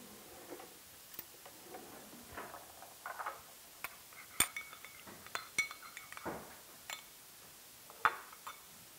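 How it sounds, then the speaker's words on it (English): Glaze ingredients, Parmesan cheese among them, are mixed in a bowl, giving scattered light clinks and taps of a utensil against the dish, soft and irregular, without any speech. "we're ready to mix"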